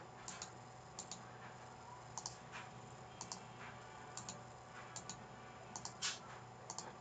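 Sparse, quiet clicks of a computer mouse while playing Minecraft, arriving in small pairs and clusters over a steady low background hum.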